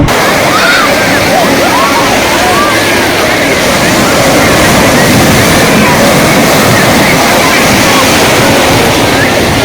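Ocean waves wash and roar continuously on Perupalem beach in West Godavari, Andhra Pradesh, loud and close, with strong wind buffeting the microphone throughout.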